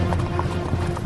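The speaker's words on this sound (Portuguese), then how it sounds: "Então Naamã foi com seus cavalos e carros" Horses' hooves clip-clop with chariots in a quick, close, rhythmic patter of overlapping hoof strikes.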